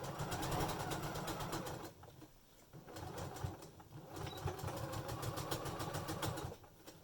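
Sewing machine stitching seams on a fabric face mask, a fast steady mechanical chatter that runs in bursts with short pauses between, close and fairly quiet.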